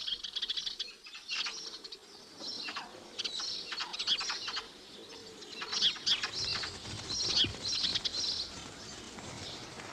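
Flock of sparrows in a wheat field giving busy, overlapping chirps and twitters close by, with rustling stalks and brief wing flutters as the birds feed among the crop.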